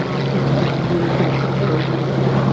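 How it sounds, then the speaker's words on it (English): A Grumman FM2 Wildcat fighter plane flying at an air show, a steady loud propeller engine drone with a low throbbing hum, unbroken for the whole moment. "Leading them off will be the Grumman FM2 Wildcat. Tubby, stubby little fighter."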